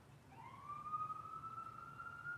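A distant emergency vehicle siren rises and holds a steady wail across the clip, faint over low background rumble with no talking.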